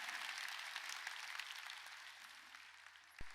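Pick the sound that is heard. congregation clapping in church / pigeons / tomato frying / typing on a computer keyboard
congregation clapping in church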